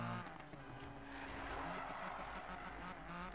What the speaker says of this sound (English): So this is my favorite drift car in the game, Honda NSX